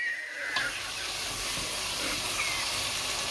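Sweetcorn roasting in masala in a hot pan, a steady close sizzle and hiss running throughout with no talk.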